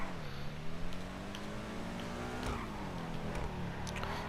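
Benefactor SM722 sports car in GTA 5 Online driven on the road, its engine droning steadily and rising in pitch as it accelerates, with a few faint clicks over the running motor.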